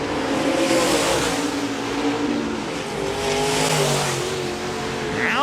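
Race cars thunder around the dirt oval at Park Jefferson Speedway in a USMTS heat race. Loud, close engines roar and rise and fall in pitch as they pass, with a brief high whine near the end.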